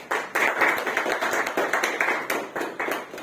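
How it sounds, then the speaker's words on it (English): Applause at a Toastmasters meeting, a modest group clapping close by in a quick, fairly even patter that carries on for the whole few seconds without any talk. "So let us, with a big round of applause,"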